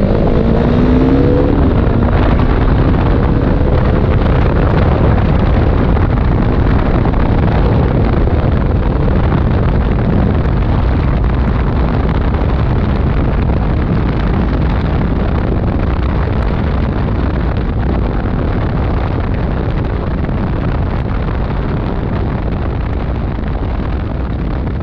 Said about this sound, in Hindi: एक बार इसका आवाज सुन लो आप लोग,